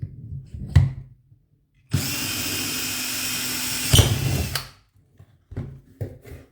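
A Parkside power drill in a drilling jig whirs steadily through a plastic tube for about two seconds with a high, bright whine, bracketed by short clicks and handling knocks before and after.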